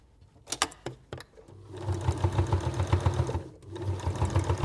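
A sewing machine stitches through thick oven glove fabric, opening with a few short clicks of the needle, then running in two steady mechanical whirring bursts with a brief pause between, heard close and fairly quiet.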